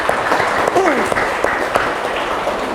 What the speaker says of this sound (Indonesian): Boleh dong tepuk tangannya buat Ibu